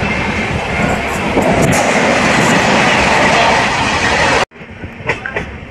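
The Venkatadri superfast express rolls along the tracks with a loud, continuous rumble and clatter heard from on board, cutting off abruptly near the end into quieter rattling.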